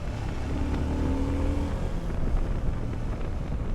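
A CF Moto 800 MT touring motorcycle pulls steadily through third and fourth gear on the road. The engine drones low and continuously under heavy wind rush, with a faint whine rising and then fading.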